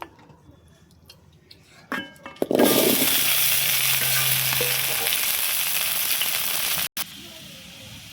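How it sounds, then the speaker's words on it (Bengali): Potatoes hitting hot oil in a heated wok burst into a loud sizzle after a few quiet kitchen clicks, then fry in a steady, close hiss until a brief cut near the end. "আলুটি ভেজে নিব।"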